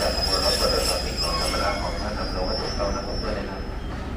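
A diesel train on Thailand's Eastern Line rumbles through Hua Takhe station, with steady wheel-on-rail noise and a high metallic squeal running throughout, close and loud, and some faint voices in the background.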